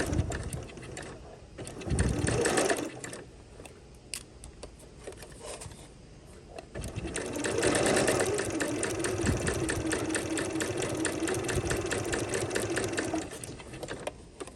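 A sewing machine stitches a waistband casing on pajama shorts, running in two stretches: a short burst early, then a long steady whir of fast rhythmic needle clatter, close and loud with no talk.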